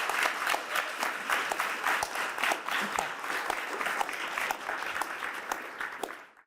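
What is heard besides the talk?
audience applause for the panelists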